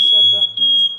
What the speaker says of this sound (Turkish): evde yangın alarmı